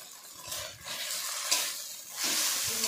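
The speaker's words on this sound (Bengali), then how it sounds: "এই মশলার সঙ্গে ভালোভাবে আমি মিশিয়ে নেব" Spices stirred in a pan with chili powder, turmeric, salt and a pinch of sugar, giving a steady close sizzle and hiss with soft scraping strokes that grow louder toward the end, and no talking.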